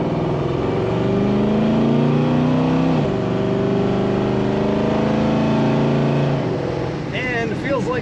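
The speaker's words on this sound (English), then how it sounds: "I do love the exhaust sound of this car." A 1964 Ford Country Sedan station wagon with column-shift automatic accelerating, its exhaust a steady, loud low drone with rising and shifting tones, close and continuous, easing off near the end.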